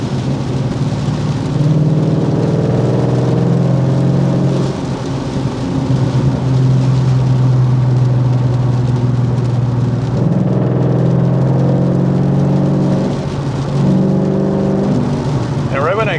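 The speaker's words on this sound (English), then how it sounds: "I got the exhaust on this car too." A 2014 Mustang GT/CS V8 driving on wet roads in the rain, its exhaust droning steadily with a deep, sustained rumble that rises and settles with throttle, under a constant hiss of rain and tyre spray.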